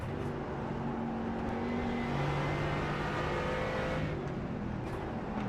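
A GR86 race car in a racing video game drones steadily with a sustained engine tone whose pitch shifts as it revs and changes gear, loud and continuous throughout without any talk.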